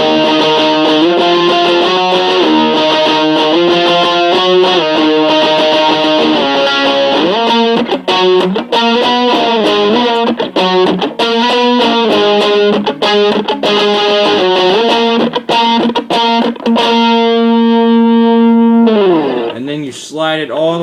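A guitar solo on distorted electric guitar, with loud sustained and bending notes over a steady, dense tone for about twenty seconds, ending in a long held note and a bend.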